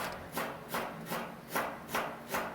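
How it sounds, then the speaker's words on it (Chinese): A knife slices pickled ginger into thin strips on a board, giving six or seven evenly spaced, soft chopping taps in a steady rhythm, close and fairly quiet with nothing else audible. "泡姜先切片，再切成丝"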